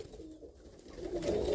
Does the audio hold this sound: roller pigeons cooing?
yes